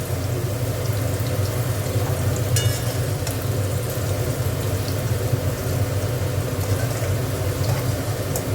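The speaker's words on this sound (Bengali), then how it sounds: "দেখো, আলুগুলো ভেজে তুলে দিচ্ছি।" Potatoes fry in hot oil for a small tangra fish recipe, a steady dense sizzle with bubbling crackle running close and continuous the whole time, plus a low hum beneath and no talk.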